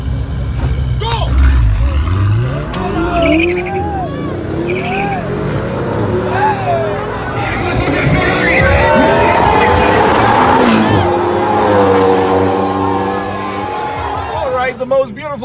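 A Ferrari 488 sports car accelerating on a city road, its engine revving loud and rising through gears, with people talking and exclaiming over it throughout.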